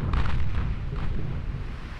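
Naval shell hits and explosions in the video game Ultimate Admiral Dreadnoughts as a torpedo boat is struck: deep rumbling booms that roll together and slowly fade, with no voices.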